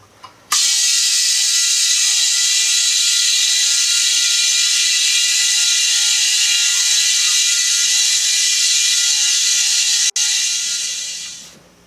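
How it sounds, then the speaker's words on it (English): An old air tank is pumped up to 60 psi by a compressor, a loud, steady mechanical whir with a constant hum that runs without pause for about ten seconds and then winds down. "I'm just going to pump it up to 60 pounds right now just to check everything"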